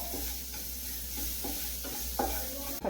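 Crushed black pepper and curry leaves sizzle in hot oil in a pan, a close, steady frying hiss broken by several scraping stirs of a spoon.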